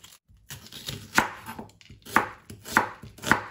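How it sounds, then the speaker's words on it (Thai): Sharp, regular knife chops through an onion on a cutting board, about five distinct strikes with short pauses between them, close and clear. "ต่อไปนี่ก็จะหั่นหัวหอมเพื่อเอาไปนาบในกระทะ"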